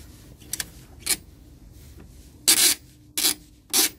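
Short squeaky rubbing bursts from a plastic headlight housing on a Renault Megane 3 RS GT220 as it is locked in and screwed down, three louder squeals near the end after fainter earlier ones, with no talk.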